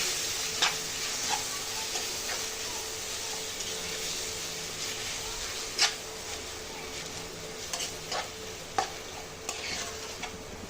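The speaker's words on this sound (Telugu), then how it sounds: "దీన్ని బాగా కలుపుకోవాలండి" Grated mango for pickle is stirred in a pan, a spoon scraping and clinking at intervals over a continuous soft sizzle and hiss, close and fairly quiet with no talking.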